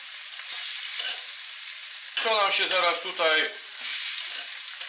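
Sausages sizzle steadily in a frying pan in a home kitchen, a constant close crackle and hiss that continues beneath someone speaking Polish in the middle of the stretch.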